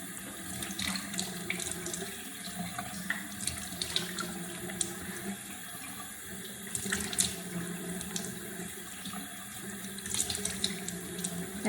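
A bathroom faucet runs into a sink while someone washes their face, a continuous close splashing hiss of water with small irregular spatters throughout.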